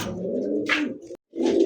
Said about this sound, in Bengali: দর্শক দেখতে পাচ্ছেন পুরান জাতের খুবই ডিমান্ডদারি একটা কবুতর মাশাআল্লাহ